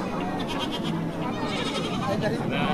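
Goats bleat at a rural market in Beloua, Madagascar, where cassava, goats and zebu are traded, their cries rising from a dense bustle of crowd chatter and people talking close by.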